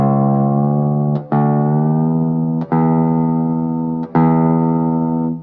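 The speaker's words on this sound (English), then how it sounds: "I'm going to tune it up, and you guys will hear the pitch going up" A guitar string on an Evertune bridge is plucked three times as it is tuned up, each note ringing clearly with its pitch rising slightly and then holding level despite further tuning.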